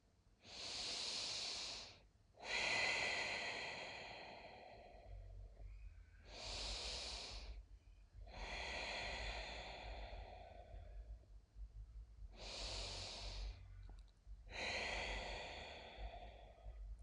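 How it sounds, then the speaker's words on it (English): Slow deep breaths during a guided relaxation, three long inhale-exhale cycles of breathy hissing air with pauses between them, close and alone, over a faint low hum. "Take 3 deep breaths."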